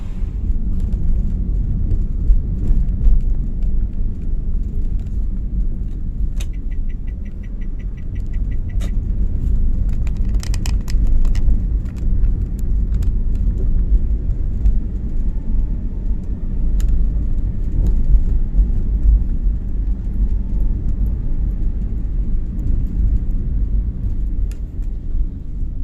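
Hino SL2 buses pull out of the Kampung Rambutan bus terminal, a loud continuous low diesel rumble building and passing with engine revving, brief horn-like tones and clatter layered over steady traffic noise.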